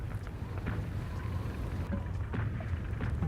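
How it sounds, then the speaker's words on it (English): Heavy rain pours steadily in a dense, continuous wash of noise with a deep rumbling undertone, loud and unbroken throughout. "heavy rain turned the battlefield into a quagmire"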